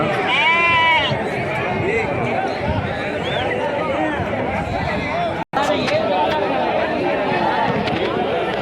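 A busy village goat and sheep market, with many people chattering close by and repeated bleating from the animals over the crowd noise.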